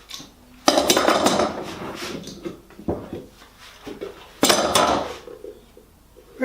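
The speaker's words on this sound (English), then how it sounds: "Today we take the clamps off and see what we've got." Metal clamps clatter and clank as they are loosened and set down from a glued ash jewelry box, with two loud clusters of rattling metal and softer knocks between.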